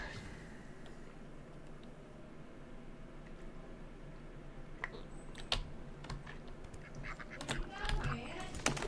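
Ducks in the video game Bear Simulator give scattered honking quacks over a steady ambient bed, mixed with quick clicks of computer keyboard typing that grow busier toward the end.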